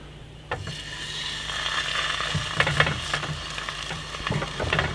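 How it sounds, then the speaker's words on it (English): Atlantic salmon laid skin side down in a hot pan, a steady broad sizzle rising after a sharp contact hiss, with occasional scrapes and taps of the fish being moved, close and fairly loud with no talking. "time to cook this beautiful Atlantic salmon. We want to go skin side down."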